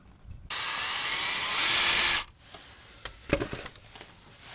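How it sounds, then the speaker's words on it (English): A power drill whines loudly for about two seconds drilling into thick metal on a ProMaster van, then stops, leaving clicks and light clattering of tools nearby. "this metal that we're drilling into is pretty darn thick"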